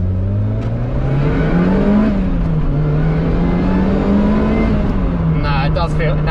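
Sports car engine, a Lotus Exige S2 or Vauxhall VX220 Turbo, droning steadily as it pulls under acceleration, its pitch rising and easing back in a sustained loud hum, with people talking over it inside the cabin.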